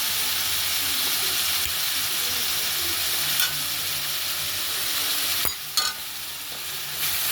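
Onions sauté with ginger-garlic paste in a pan, sizzling steadily up close, with a couple of louder scraping stirs near the end.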